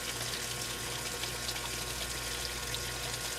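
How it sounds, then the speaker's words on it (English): Thick laundry detergent pours from a bottle into its cap, a steady, soft liquid stream running without a break over a low background hum, with no talking. "And we'll pour, a good cap full."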